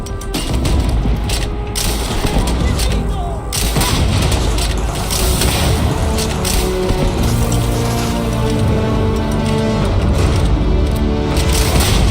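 Gunfire rattles in the video game Starfield, loud rapid bursts and heavy booms layered densely over a continuous battle din for the whole stretch, close and intense.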